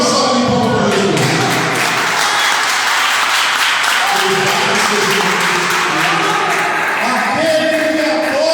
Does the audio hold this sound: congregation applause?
yes